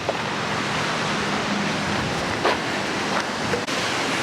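Ocean waves wash steadily along Pismo Beach beside the pier, a broad continuous surf hiss with light wind and a few faint soft knocks.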